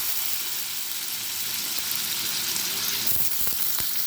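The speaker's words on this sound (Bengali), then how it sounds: "এবার আলুগুলোকে ভেজে নেব।" Potatoes frying in hot oil in a wok: a loud, dense, steady sizzle with crackling that grows a little busier toward the end, alone with no voices.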